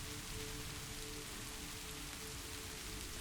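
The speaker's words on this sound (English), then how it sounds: "Let the rain do what rain has always done." Rain falls steadily outside a cabin, an even, unbroken hiss of drops on surfaces with no thunder or voices.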